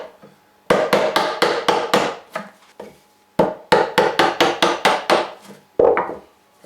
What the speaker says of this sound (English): I'm putting the chisel up to the knife wall